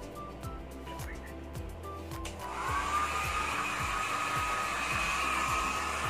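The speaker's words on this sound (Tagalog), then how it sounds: "Blower." A hair dryer running on its cool setting after hair washing switches on partway through and keeps up a loud, steady airy whoosh, with faint background noise before it.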